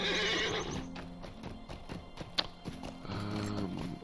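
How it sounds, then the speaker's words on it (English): Horse from the video game LOTRO, a loud neigh followed by steady clip-clopping hooves, then another whinny near the end, close and clear with no talk. "Let's go ahead and take a slow horse"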